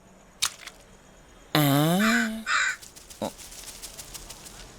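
A crow gives a loud, harsh, drawn-out caw up close, preceded by a short click and followed by a second, shorter call, then quieter rustling.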